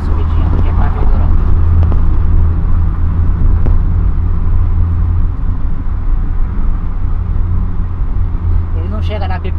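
A turbocharged VW Tiguan with an automatic gearbox pulls hard up a short incline, its engine a loud, steady, close rumble throughout, with voices talking over it.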